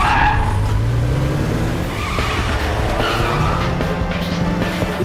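Racing cars skid with squealing tires and roaring engines during a street race in a film about a skilled female taxi driver, loud and close for the whole stretch with no talking.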